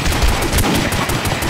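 Rapid gunfire in The Godfather video game, loud close bursts of shots cracking in quick succession.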